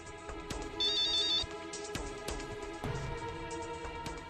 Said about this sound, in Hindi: कोई जरूरी फोन है तो आप अटेंड कर लीजिए।